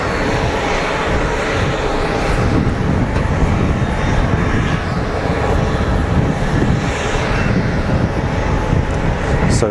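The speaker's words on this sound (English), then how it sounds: "I'm going to say it's a Bombardier Global Express, but who knows." A Bombardier Global Express business jet at Geneva Airport gives a steady, loud engine roar lasting throughout, with no voices.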